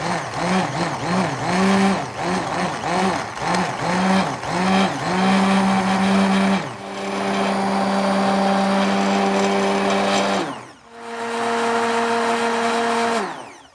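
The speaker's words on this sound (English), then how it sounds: "I am going to slowly try and use the immersion blender and break these beauties up." An immersion blender on low whirs loudly in short pulsing bursts, then runs continuously, stops, and restarts, its motor pitch wavering as it purees tomato soup.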